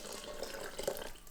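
Rinse water swirled out of a kadhai and poured into a blender jar, a short, quiet splashing trickle with small gurgles, close by and without talk.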